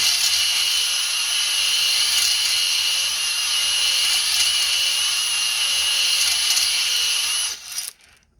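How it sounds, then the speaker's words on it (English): A steady, high-pitched mechanical whir runs at constant speed for several seconds, then cuts off abruptly near the end, as a drill in first gear spins a hone inside a Predator 212 engine cylinder. "You got 2 gears on your drill, go with the gear 1."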